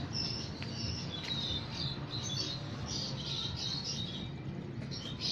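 Pigeons kept in a loft call steadily throughout, a busy mix of chirps and short squawks at moderate level with no one talking.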